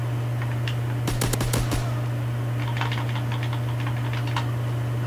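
Gunfire in the Call of Duty WW2 video game during a 1v1 match: a quick burst of close shots followed by scattered faint clicking shots over a steady low game hum, with no talk.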